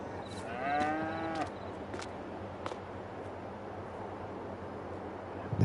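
Cows moo inside a barn on slatted floors in the Farming Simulator 22 video game, one drawn-out low moo early on over a steady background hum, with a few faint clicks afterward.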